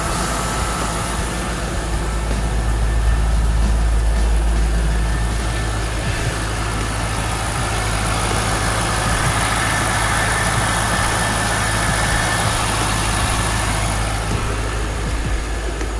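A Chevrolet C5 Corvette V8 warming up at idle during a water pump replacement, a steady low rumble held evenly throughout at moderate level, with no talk over it.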